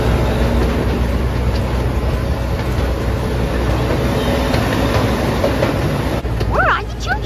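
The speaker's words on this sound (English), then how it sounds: "We're on the choo-choo train." A ranch choo-choo train ride at a pumpkin patch rumbles steadily and loudly as it rolls along, a constant close mechanical drone with faint voices near the end.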